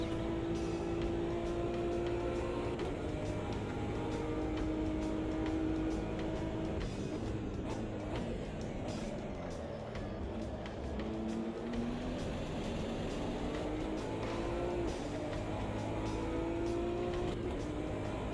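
Race car engines from a BMW and a McLaren in a racing video game roar and rev steadily, with rising and falling whines from gear changes, loud and continuous throughout.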